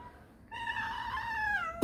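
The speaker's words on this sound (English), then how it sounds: "this is Malay's cat" A pet cat gives one long, drawn-out meow that rises and then falls, heard close and clear in a quiet room, followed by a brief sharp noise at the end.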